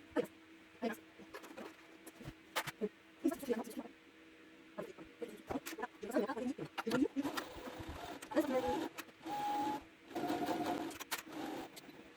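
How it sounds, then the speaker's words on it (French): Domestic sewing machine stitching along the pocket seams of a pair of trousers, running in short irregular bursts of whirring with pauses between, close and moderately loud, with occasional fabric handling. "Cousez le long de la couture de chaque poche"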